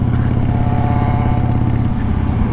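A Harley-Davidson motorcycle engine runs loud and close, a steady low rumbling idle with a rapid pulsing throb throughout.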